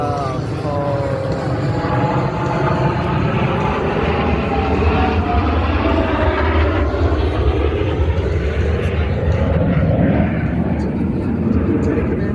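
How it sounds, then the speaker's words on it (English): Blue Angels F-18 jet flying a maximum performance turn at an air show, a loud sustained jet roar with shifting, sweeping whine as it passes, heavy broadband noise throughout. "Lieutenant Commander Stengel is approaching to demonstrate the maximum performance turn rate of the F-18."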